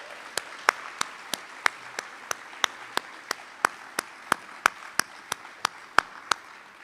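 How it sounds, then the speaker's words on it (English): Crowd at the Kenmoor Middle School ribbon cutting ceremony clapping in a sparse, steady rhythm, with distinct evenly spaced claps over a quiet background for several seconds. "Can we give them another round of applause"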